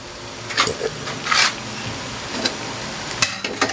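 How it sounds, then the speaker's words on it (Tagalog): Pork and pork lung simmering for Kapampangan kilayin, stirred and sizzling in a pan, with scraping and clinking of a utensil against metal over a steady bubbling background. "Ayan, kumukulo na po."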